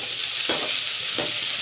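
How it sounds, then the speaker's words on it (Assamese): Onions, raisins and cashews fry in a pan under a constant sizzle, while two brief scraping strokes of stirring come about a second apart. "এতিয়া আমি এখিনি লৰাই দিম"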